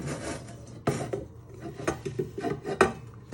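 Brown sugar is tipped into a small pan with scraping and light metallic knocks of a scoop or bowl against the pan, close and intermittent, without speech.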